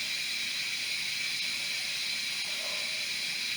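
A pressure cooker vents steam in a steady, loud, continuous hiss that runs unbroken from start to finish, with no talking.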